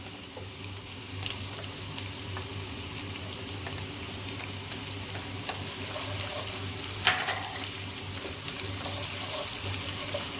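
Garlic, onion and the white part of spring onion fry in a pan with a continuous even sizzle and gentle stirring, plus one sharper clink partway through, with no voices.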